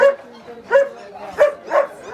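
A black German Shepherd barks at a dog market at a fair: four sharp barks in an even rhythm, at moderate distance, with faint crowd noise behind.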